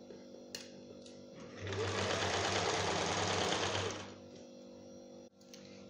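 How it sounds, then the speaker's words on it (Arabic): A sewing machine stitches a sleeve in one close, steady run of rapid whirring stitches lasting about two seconds, with faint background hum and small clicks on either side. "انا نخيط المونش ونكمل ومن بعد نلصقوا الجوانب."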